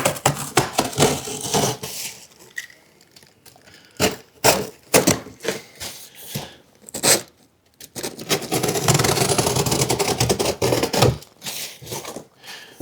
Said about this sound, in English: I'm just going to cut the whole front out right here